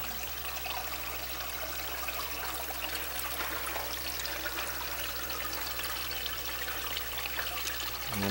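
Water spills steadily over a weir in the radial flow settler of a large aquaponic greenhouse system, a continuous close trickling rush with no breaks or talk.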